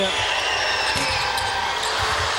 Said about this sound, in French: Lancer franc pour Chris King.